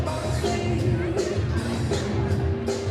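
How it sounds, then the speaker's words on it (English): An anxious crowd at a high school boys' varsity basketball tournament game murmurs and chatters steadily through a timeout, with scattered shouts and a few thuds rising from the general din. "Crowd a little bit anxious, as you can tell."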